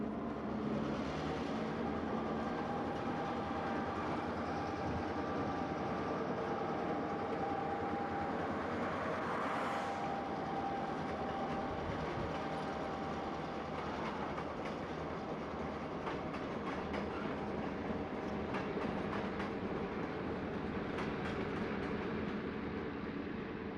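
An HO scale model train runs steadily around a layout, a continuous close rolling whir with light clickety-clack from the wheels and faint mechanical ticks, heard alone without talk.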